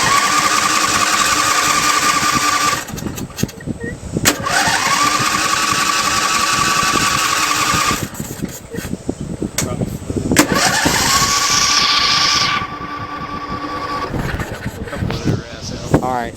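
A Yamaha motorcycle fitted with a swapped-in 670cc V-twin engine is cranked over and over, loud and close, in long bursts with brief pauses, and it never catches. Voices talk over the cranking.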